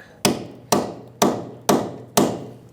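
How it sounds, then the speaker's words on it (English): An air hammer pounds down on the rear strut assembly of a 2000-2007 Ford Taurus 3.0L V6, five loud metallic blows at a steady half-second rhythm, each ringing briefly, with no talk. "as I have a friend of mine here air hammering down"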